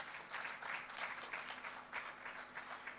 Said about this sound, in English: Can we put our hands together and we clap for them?